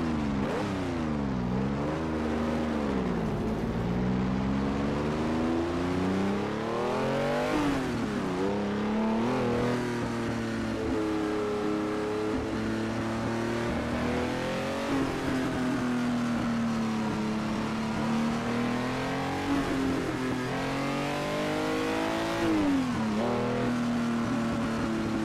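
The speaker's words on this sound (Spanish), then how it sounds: "Suena bien el cochecillo" Alpine A110 1600S engine in the SIM TRAXX racing game, revving continuously with rising and falling pitch through repeated gear changes, a steady game engine drone with no talk.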